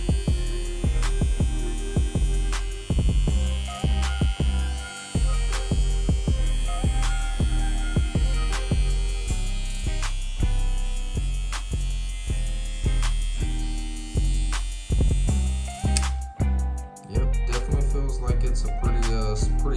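A new Limural K11S hair clipper runs close up, giving a loud, steady electric buzz with a quick run of rhythmic clicks throughout.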